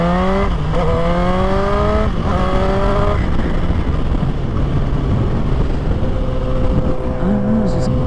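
Suzuki GSX-R1000 motorcycle fitted with a Coffman's exhaust revving: two rising throttle blips early, then a steady loud engine drone with a rough low rumble, recorded close with no voices.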